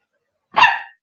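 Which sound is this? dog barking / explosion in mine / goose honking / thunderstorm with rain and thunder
dog barking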